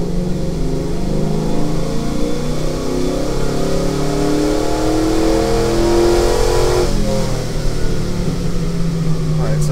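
Truck engine on a dyno, held under throttle with a loud, steady droning roar whose pitch climbs gradually as revs rise, with someone speaking over it.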